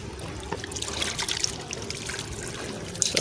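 Water is poured from a hose onto a sun-baked roof at a mini zoo under construction, a steady close splashing trickle that runs without a break and with no voices.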